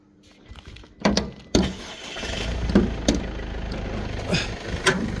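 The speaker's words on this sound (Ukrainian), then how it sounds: "заводиться з полтика" A Mercedes-Benz Sprinter 314 van engine cranks and catches after a couple of sharp clicks, then settles into a steady low idle with occasional knocks.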